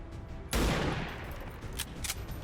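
Gunfire in the video game XCOM 2 Long War 2, a sudden loud burst of shots that rings out and decays under a constant game background, with a couple of smaller bangs following.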